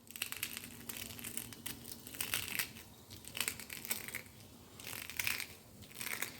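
Hard, crisp homemade chakli murukku of gram flour and semolina, fresh from frying and still warm, strained by hand to break it: close, dry crackling and crunching in repeated bursts across the clip, with no talking.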